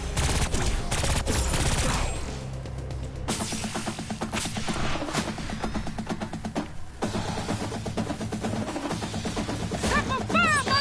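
Repeated bursts of video game gunfire from Agents of Mayhem, rapid automatic volleys with short pauses between, loud and close, with someone talking between shots.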